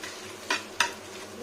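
Fish roe frying in a pan with salt and turmeric, a soft steady sizzle with two brief louder scraping stirs close by, no talking.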